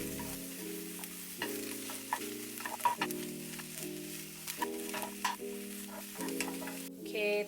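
Shrimp fry in a pan with a steady sizzle and crackle while utensils stir and tap against it, set against a soft background of sustained music tones.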